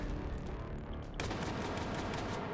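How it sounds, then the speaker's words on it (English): Rapid bursts of automatic gunfire in the VR game Hot Dogs, Horseshoes & Hand Grenades crackle continuously, dense and loud, with a sharp jump in intensity partway through as more weapons join in. "Celebratory gunfire."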